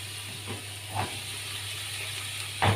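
Potato cubes sizzle in hot oil with a steady, broad hiss and faint crackle, a low hum beneath and a few brief louder pops along the way.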